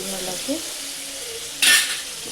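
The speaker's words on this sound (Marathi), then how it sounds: "थोडंसं टाकलं की चांगलं जरा परतून घ्यायचं" Cluster beans sizzle and sauté in a pan, cooked village-style without onion, with a soft steady frying hiss and a sharp scraping stir near the end.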